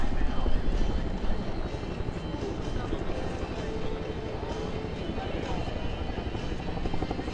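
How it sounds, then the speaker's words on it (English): Four Bell UH-1N Huey helicopters fly past at an Andrews AFB airshow, rotors thumping and roaring loudly, strongest at the start then settling into a steady drone, with a voice talking underneath. "that's what we're seeing with these helicopters right now"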